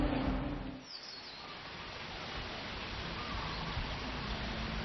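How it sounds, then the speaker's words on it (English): Birds chirp among the trees on a clear day in Makua, Hawaii: faint, scattered calls almost buried under a steady wash of broadband outdoor noise. "the birds are playfully chirping among the trees"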